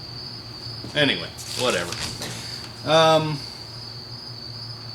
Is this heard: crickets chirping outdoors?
yes